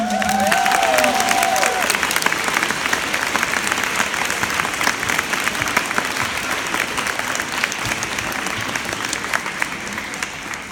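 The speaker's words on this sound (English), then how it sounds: "Give yourself a round of applause" A school audience gives a sustained round of applause after an award announcement, dense crowd clapping with some cheering, loud and even throughout, with a brief tonal sound near the start.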